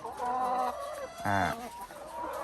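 Chickens clucking in a coop where laying hens are kept, a steady stream of close, overlapping clucks with one louder, drawn-out call in the middle.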